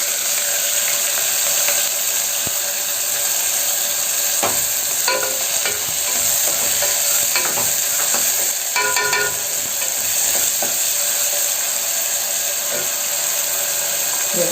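Finely chopped onions fry with whole spices, including a star anise petal, in a pan for tomato rice: a continuous loud sizzle with occasional spatula scrapes and stirring clatter.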